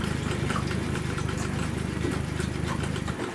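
The outboard motor of a Real Craft 470 motorboat idles near the shore with a steady, close, low chugging throb that runs unbroken throughout.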